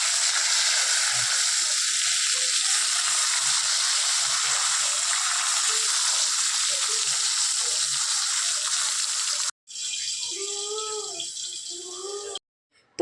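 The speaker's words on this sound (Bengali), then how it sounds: "বেগুন ভাজা করে নিচ্ছি।" Brinjal slices frying in hot oil, a steady loud sizzle for about ten seconds, then after a brief cut a voice talks over the frying before it drops out.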